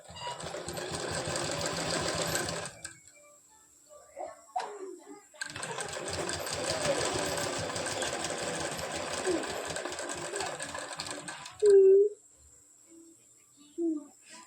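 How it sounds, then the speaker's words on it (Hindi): A sewing machine stitching a 42-inch belt blouse runs in two long steady whirring bursts separated by a pause, with brief clicks and short bits of someone talking between runs. "अब मैं इसमें सिलाई लगाऊंगी।"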